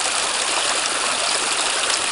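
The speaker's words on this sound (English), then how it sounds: "And you can see as the water just drops down, it's really nice" Mountain stream water dropping over orange, iron-stained rocks on Croghan Mountain, a steady, close, full rushing wash that holds constant throughout with no voices.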